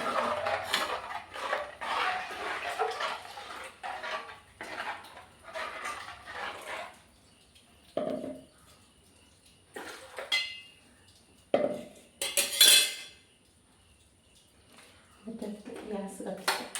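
A spoon clinks and scrapes against a bowl while mixing ingredients, in short bursts between stretches of talk, with a few louder knocks toward the end.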